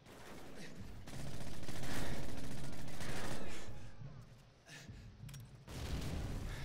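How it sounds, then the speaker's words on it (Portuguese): A grenade blast in Call of Duty MW3 multiplayer erupts as a loud, broad roar that swells and holds for a few seconds, then dips before more heavy combat noise returns. "o cara jogou granada de novo bem aqui atrás"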